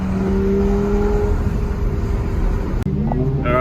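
A Lamborghini Aventador fitted with an aftermarket exhaust and high-flow cats revs loudly nearby, a steady heavy engine roar that breaks off sharply before a lighter idle with rising blips.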